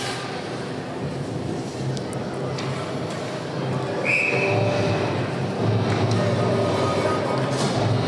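During an ice hockey game between the East Kootenay Avalanche and North East Trackers, a referee's whistle gives one short, shrill blast over steady arena crowd noise and commentary.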